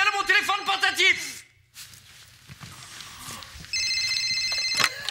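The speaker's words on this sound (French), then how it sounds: "On tente de communiquer avec moi par le biais de mon téléphone portatif!" A mobile phone rings with a short electronic tone near the end, set against a noisy room and preceded by a man's exaggerated, theatrical voice.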